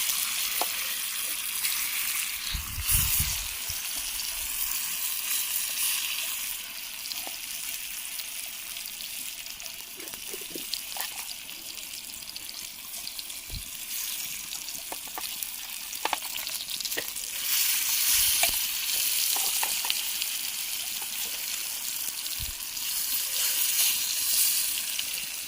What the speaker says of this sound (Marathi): हे बघा मस्तपैकी मासे ठेवलेत कौलावरती फ्राय व्हायला.